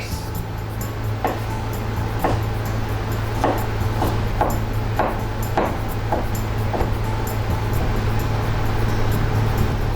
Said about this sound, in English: Now, ham. You just need to cut it into thin strips.